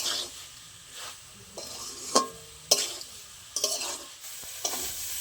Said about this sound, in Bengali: আলু আর সয়াবিন একসাথে ভালো করে মশলার সাথে কষানো হয়ে গেছে।